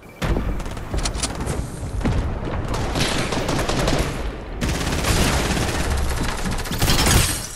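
Loud bursts of rapid gunfire fill Fortnite Chapter 2 Season 1 gameplay while headshots are scored, with dense volleys running almost continuously and brief gaps between them.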